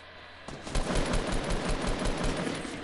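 Rapid automatic gunfire in a video game, a loud, evenly pulsing burst of shots that starts abruptly and keeps going without a break.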